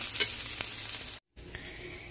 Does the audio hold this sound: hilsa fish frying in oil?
yes